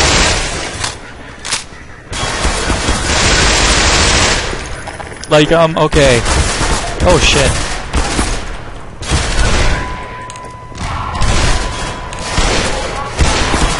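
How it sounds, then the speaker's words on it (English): Loud Magnum gunshots from Black Mesa in Half-Life 2 crack out in a rapid volley of sharp, booming blasts with echoing tails. A man briefly exclaims between shots. "it's using the, Magnum sounds from Black Mesa"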